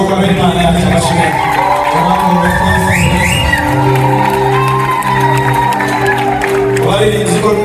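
At a church wedding in Rwanda, a crowd ululates with rising trilled cries over loud, steady music and mixed voices, the high wavering calls standing out near the middle.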